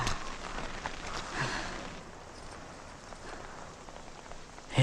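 Steady rain with wind, a broad hiss that is louder in the first two seconds and then eases to a softer, even wash. No voices are heard.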